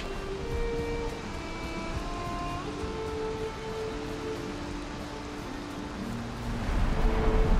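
Steady rain from a storm in Valheim, a continuous hiss of falling water with low rumbling beneath and faint tonal game sounds drifting over it, swelling louder near the end.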